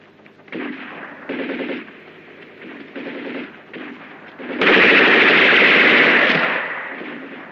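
Weapon fire in a 1970 war action film: bursts of rapid gunfire, the first few spaced and moderate, then a louder sustained barrage for several seconds that fades toward the end, with no talk.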